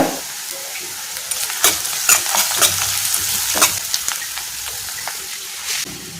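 Cashew nuts sizzle in hot oil in a pan while being stirred for a banana-flower podi rice dish. Close, steady frying hiss runs throughout, with scraping stirs breaking through every second or so.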